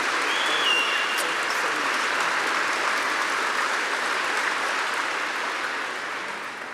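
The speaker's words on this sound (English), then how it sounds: "I just want my mother to get the proper round of applause that she really deserves." A large audience claps steadily, a dense sustained wash of applause that tapers slightly toward the end.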